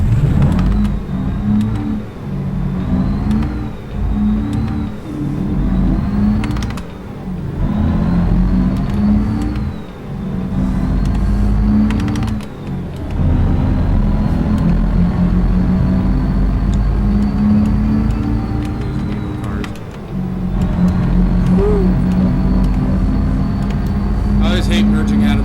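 Heavy loaded semi truck engine in American Truck Simulator hauling a single-axle trailer, a steady droning hum with revving and gear-change dips, heard under ongoing talk.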